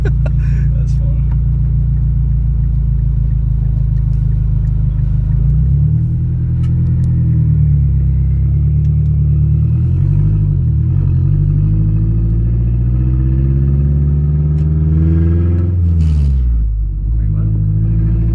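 A Mazdaspeed6's exhaust while driving, with a loud, close, continuous engine drone that rises and falls in pitch as it accelerates and shifts, and a voice now and then.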